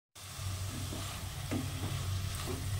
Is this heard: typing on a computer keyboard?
no